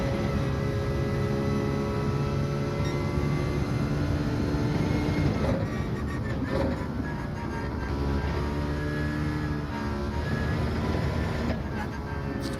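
A car engine in Gran Turismo 7 racing at Lago Maggiore, a continuous high, electric-shaver-like whine with shifting tonal lines, heard throughout at a steady level.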